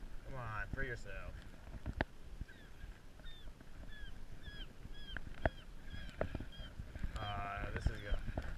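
A seagull tangled in a fishing line near a boat on the water gives repeated short, high calls spread through the clip, moderately loud, heard under and between a voice.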